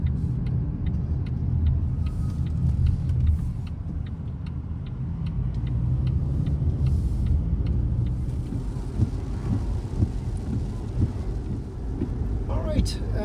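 Steady road rumble from a car cruising on a highway in Ontario, with broadband tire and wind noise, no talk in this stretch.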